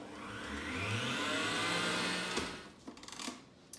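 A Cooking Chef kitchen machine whirs steadily as it briefly whips already firm cream with sugar, a loud continuous motor drone that winds down and stops, followed by a few soft knocks and clinks.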